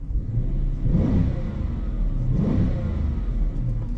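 A Dodge Charger R/T muscle car engine revs up twice in quick bursts, rising and falling, loud and close with a steady idle rumble in between.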